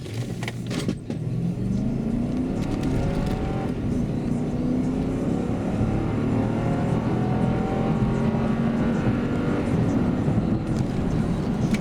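A Lexus LX570 SUV engine running on petrol revs up steadily with rising pitch as the vehicle accelerates smoothly, heard from inside the cabin, continuous and moderately loud.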